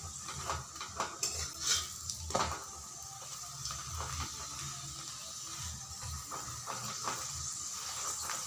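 In a pan, an aloo paratha fries while being pressed down, giving a steady soft sizzle broken by intermittent scraping and clinking knocks of a utensil against the pan, close by and with no speech.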